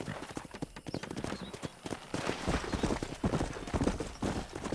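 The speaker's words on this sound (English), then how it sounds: "Control that horse, will you?" Horse hooves clop in a close, steady, uneven clatter, with a few brief spoken words mixed in.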